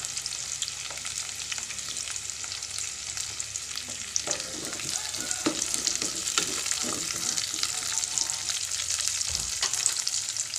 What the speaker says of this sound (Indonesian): Saya masukkan juga cabenya.